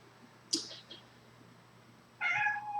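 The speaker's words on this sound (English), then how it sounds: "Sorry, you might have heard my cat Cinnabon." A house cat meows, with a brief higher cry near the start and a louder sustained meow at the end, heard close and fairly faint in a quiet room.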